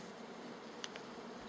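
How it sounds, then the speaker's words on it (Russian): A swarm of bees buzzes at an apiary, a faint continuous droning hum with a brief tick near the middle and no talking. "Сколько их? Рой целый."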